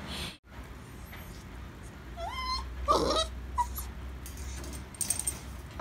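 A golden retriever puppy whimpers and yips in short, rising cries, close by in a quiet room, with some soft rustling and a faint jangle between the whines.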